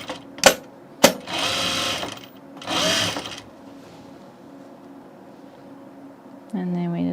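A sewing machine stitches a shirt seam in short loud bursts of motor whir, with a couple of sharp clicks between them. A voice speaks briefly at the very end.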